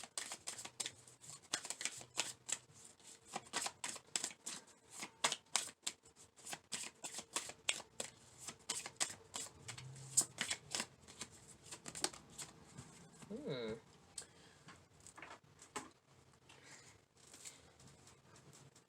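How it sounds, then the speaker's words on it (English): A deck of tarot cards is shuffled by hand, a long run of rapid, crisp riffling flicks and taps in uneven bursts, close and fairly quiet, with no talking. "I'm gonna shuffle this one more time."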